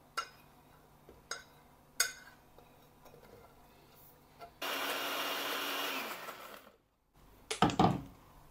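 After a few light clinks and taps, a blender whirs loudly for about two seconds grinding spices for rendang, stops, then more clattering follows.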